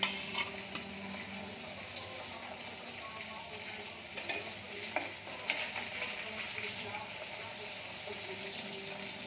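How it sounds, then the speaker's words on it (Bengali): Fresh fish frying in a pan gives a steady, close sizzle throughout, with a few brief clinks and stirring noises rising above it. "একটু ভাজা হবে"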